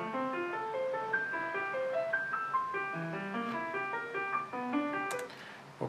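A Cubase chord track plays back a tonic-subdominant-tonic progression in a Mozart-style piece, with clear synthesized tones moving through steady melodic and chordal phrases.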